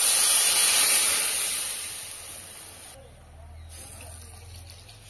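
Water goes into a pan of spiced rohu fish curry with cauliflower and dry chilli powder, setting off a loud, close steamy hiss that gradually fades into a lower, bubbling simmer.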